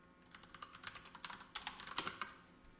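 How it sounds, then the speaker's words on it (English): Rapid typing on a computer keyboard during a live NFL playoff broadcast, with clustered clicky keystrokes coming in irregular bursts, fairly close and alone with no talk. "I'm typing stuff in our chat right now, Paige."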